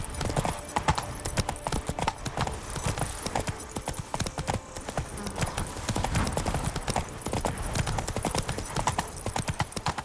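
Horse hooves gallop in a fast, steady clip-clop rhythm across open ground in The Witcher 3: Wild Hunt, loud and close throughout, with a faint whinny and no talk over the hoofbeats.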